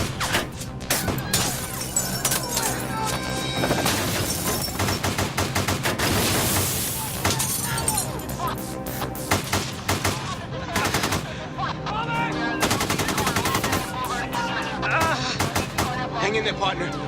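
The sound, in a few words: gunfire, hundreds of rounds being shot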